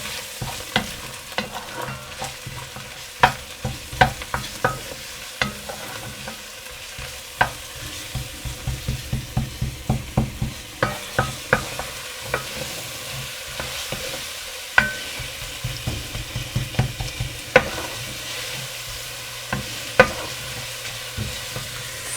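Garlic and ginger fry in a pan for a Thai massaman chicken curry, a soft steady sizzle broken by frequent sharp clacks of a utensil stirring against the pan, with no talking.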